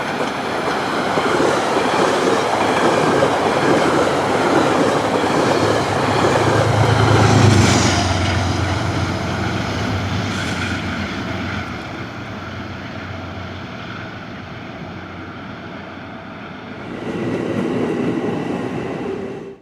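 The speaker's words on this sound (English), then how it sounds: "another New Haven-painted P32AC-DM leads a northbound train meeting a southbound electric set" New Haven-painted P32AC-DM diesel locomotive leads a northbound train past a southbound electric set at a platform, a loud sustained rumble and clatter that thins midway and swells again near the end.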